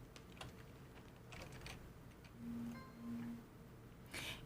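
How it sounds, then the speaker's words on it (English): Typewriter in the Resident Evil Village video game: sparse, quiet mechanical key clacks spread across a few seconds over a low room hum, with a brief ringing tone partway through. "And we have a typewriter."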